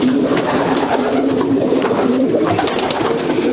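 Pigeons in a racing pigeon loft coo continuously in low, throaty murmurs, several birds overlapping close by with no talking.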